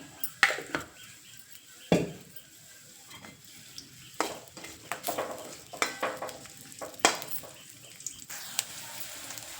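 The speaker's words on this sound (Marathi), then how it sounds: "आता हे तेल टाकून अगदी छान मस्त परतून घेऊ आपण जास्ती पण नाही परतायचं त्याचा वास जाईपर्यंत कांद्याचा" Chopped onion and green chilies frying in oil, with intermittent sharp clinks and scrapes of a spoon against the pan over a faint, patchy sizzle, close by and without speech.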